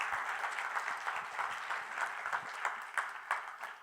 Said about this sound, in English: Can we get a round of applause for Children of Ether